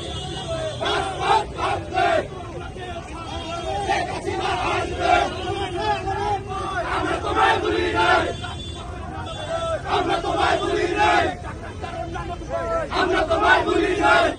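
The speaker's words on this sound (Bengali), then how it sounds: "বিশাল এক মিছিল হয়েছে" A large Awami League street procession moves along a main road in Dhaka, its crowd chanting slogans in loud, surging waves that continue without a break.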